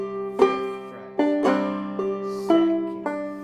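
Banjo played clawhammer style on the closing line of a tune's C part: a run of plucked notes with steady ringing drone strings, clear and close, with no talking.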